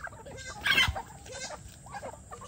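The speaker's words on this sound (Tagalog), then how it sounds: "Madami na rin yung ating mga manok dito." Several chickens cluck softly nearby, one letting out a louder squawk, with the faint rustle of a farmyard behind them.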